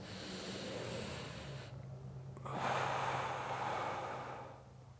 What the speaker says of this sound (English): I'm breathing in through my nose